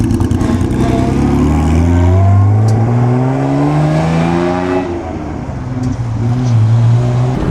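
Vintage Ferrari racing car at the Mille Miglia road rally, engine revving hard and pulling up through the gears in several rising sweeps, loud and close, easing off briefly before revving again.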